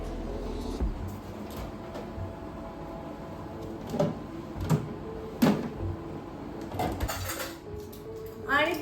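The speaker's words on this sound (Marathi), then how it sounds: "ही सगळी भांडी लावून घेते" Washed dishes and utensils being put away in a home kitchen: scattered clinks and knocks of pots and steel vessels, a few louder clatters and a rattle near the end, over a quiet background without speech.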